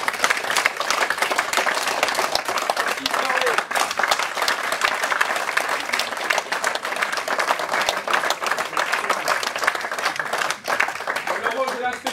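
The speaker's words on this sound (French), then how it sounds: "je vous demande de les applaudir très fort" An audience applauds actors after an improvised show, with loud sustained clapping through the whole stretch and voices calling out over the applause.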